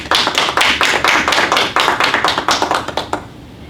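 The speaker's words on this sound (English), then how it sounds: "I think we should all give her a round of applause." A small audience gives a round of applause, close and fairly loud, with irregular individual claps that thin out and fade near the end.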